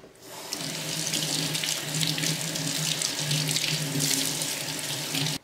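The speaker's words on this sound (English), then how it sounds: "I'll just rinse these off in some running water." Fig cuttings are rinsed under a running tap, a steady, fairly loud rush of water splashing continuously into a sink with slight shifts in flow, no talking.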